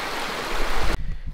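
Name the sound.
water flowing in Big Crystal Creek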